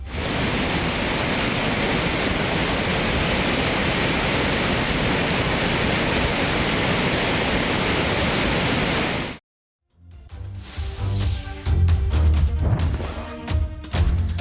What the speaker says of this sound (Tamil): மேற்கு தொடர்ச்சி மலை பகுதியில் தொடரும் மழையால் அருவியில் வெள்ளப்பெருக்கு ஏற்பட்டுள்ளதால்